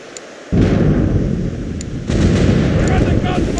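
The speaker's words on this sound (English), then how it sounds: "We're under gunfire!" Heavy booming cannon fire between ships erupts suddenly and continues as a dense, loud barrage, with a second surge partway through.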